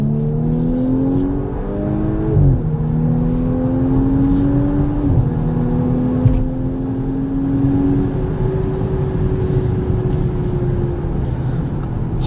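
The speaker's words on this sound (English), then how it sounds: "She has no problem getting up to speed." Inside a 2019 Audi S5 Sportback, the engine pulls hard at high speed, rising in pitch through several quick gear shifts before settling into a steady cruising hum over road noise.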